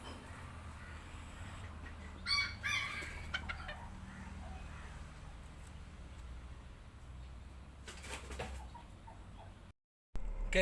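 Serama chickens cluck quietly in a coop, with a few short clucks and scratchy rustles over a steady low background hum, faint and somewhat distant.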